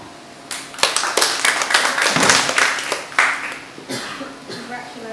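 Audience at a self-love masterclass workshop in London breaking into a round of applause, a burst of close, lively hand clapping from a small crowd that swells and then tapers off.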